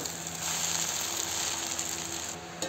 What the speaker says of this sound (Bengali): দেখো চাউমিনটা প্রায় হয়ে গেছে, আর একটু ভাজা ভাজা করবো